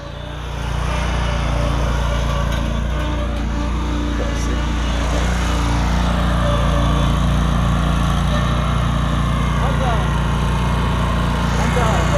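A riding lawn mower engine runs at a steady, loud drone throughout, with voices talking faintly over the motor.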